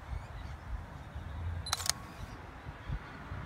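A Canon 100-400mm f/4.5-5.6L IS II USM lens, mounted on a Sony A7II through a Metabones IV EF-to-E adapter, autofocuses toward infinity with a brief, faint whir and click under quiet room hiss.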